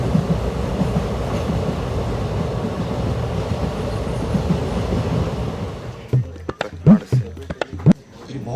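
A passenger train moving, heard as a steady, loud rolling rumble for about six seconds before the noise thins and people start talking close by.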